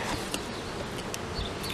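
Honey bees buzz around a swarm trap box outdoors, a steady close drone of many insects with brief louder passes near the microphone.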